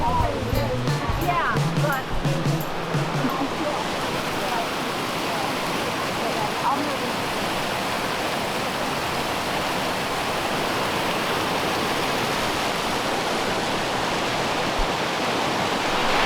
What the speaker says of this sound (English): Take a little detour to the waterfall overlook that we saw at the very bottom.